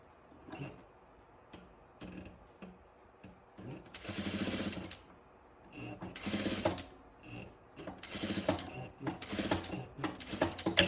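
A sewing machine stitching fabric for a tracksuit welt pocket runs in short bursts of rapid mechanical whirring, stopping and starting with quiet pauses between runs.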